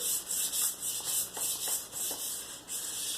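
An axe blade rubbed on a sharpening stone in rhythmic strokes, about a dozen quiet scraping passes with a brief pause between each.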